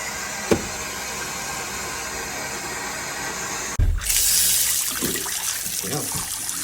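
Water rushing into a household plumbing system after the mains are switched on, a sudden loud hissing surge that follows a single knock and a quieter stretch, then continues as a steady flowing rush.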